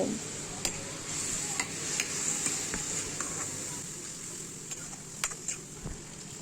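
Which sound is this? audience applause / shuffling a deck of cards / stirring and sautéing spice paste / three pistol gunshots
stirring and sautéing spice paste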